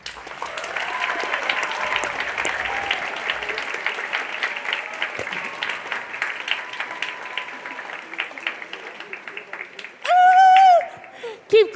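A Living Arts Centre audience at a reconciliation event applauds warmly, a sustained dense clapping that fades gradually, then a person speaks over a microphone near the end.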